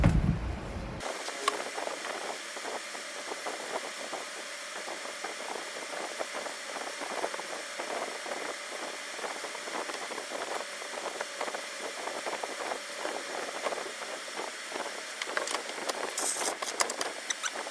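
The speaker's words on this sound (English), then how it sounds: "One more quick round with the 150, then we'll hit it with the 600" A Volkswagen engine case is sanded smooth with 600-grit abrasive, making a steady, close, whirring hiss that runs on evenly without pause.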